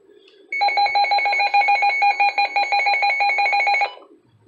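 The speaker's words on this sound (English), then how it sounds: "so the Midland WR300 sound test does sound like this." Midland WR300 weather radio sounding its alert test: a loud electronic tone with a steady pitch, pulsing rapidly for about three seconds before cutting off, heard alone.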